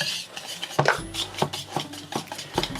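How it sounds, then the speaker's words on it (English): Dry cake mix ingredients stirred together in a bowl with a utensil, giving a close, steady run of scraping, rubbing clinks and gritty swishes with a few sharper knocks. "we're going to mix all this together."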